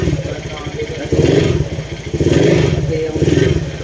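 A motorcycle engine with a noisy camshaft, running short of oil, revs in repeated bursts, loud and close, its throaty pulsing rising and falling while a voice talks over it.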